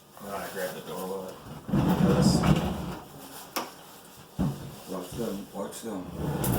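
A wooden kitchen cabinet door being handled during a concrete countertop install, with knocks, a slide and clunks of the door amid workshop noise while people talk over it.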